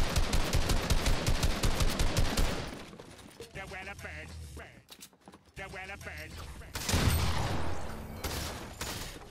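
Rapid automatic gunfire rattles in a video game, a loud burst of rat-a-tat shots at the start. A quieter stretch follows, then another heavy volley near the end.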